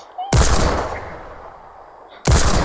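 Two loud gunshot blasts in a Roblox-style murder mystery game set on a volcano map, one early and one near the end, with a ringing decay between them.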